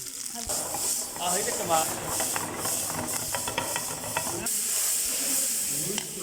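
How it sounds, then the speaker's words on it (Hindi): Small rice-ball pearls for moti pulao sizzle and hiss steadily as they grill in a hot pan, a continuous close frying sound with light clicks of movement, and faint speech is mixed in. "इनको हम हल्का सा ग्रिल करेंगे ताकि ये सेट हो जाएं"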